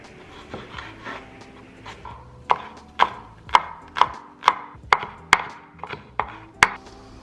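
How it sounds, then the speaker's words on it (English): Garlic is chopped with a knife on a cutting board in a run of about a dozen crisp, evenly spaced taps that grow firmer and quicken slightly, close and distinct with no talking. "The one thing I find annoying is cutting up garlic."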